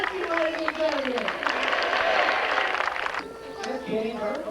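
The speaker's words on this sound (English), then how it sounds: "Let's have a big round of applause for our fighting" An audience breaks into applause, a dense wash of clapping that swells and then fades, with people talking over it throughout.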